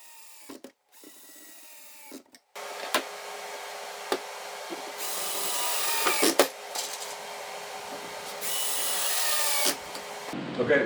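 A cordless power drill drives screws to fix a cabinet drawer front in place, with several short whirring bursts and one longer sustained run. Faint clicks and handling knocks fall between the bursts.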